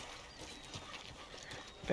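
Horse hooves clip-clop in Red Dead Redemption 2, a soft, fairly faint run of evenly spaced footfalls under a quiet game ambience, with a brief louder bump at the very end.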